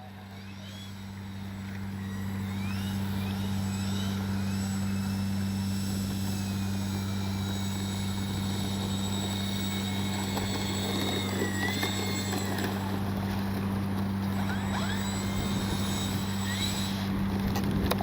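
An AS3X+ equipped Bronco RC model plane's electric motor runs steadily at a constant drone from near start to finish, fading up over the first couple of seconds, with no talk.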